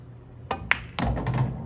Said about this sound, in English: Okay, so I'm gonna take the shot, shoot with top English.